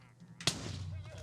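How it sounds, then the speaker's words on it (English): A single sharp TNT explosion in Minecraft Bedrock Edition, a sudden burst followed by a rumbling tail, with a voice talking over it. "that was almost a TNT cannon"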